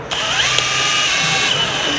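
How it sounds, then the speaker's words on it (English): Small power drill boring through a wall for cables, a steady high-pitched motor whine with grinding bit noise held close and loud for the whole two seconds. "So I'm thinking if I do that, and it's the smallest drill I could find, hopefully it works."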